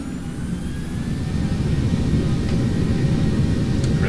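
Airplane engine in the X-Plane 12 flight simulator game at about 40% throttle on takeoff roll, a loud low rumbling roar that swells gradually, with no talk.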